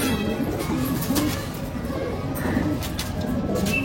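A male desi pigeon coos in soft repeated low pulses close by, with a person talking over it.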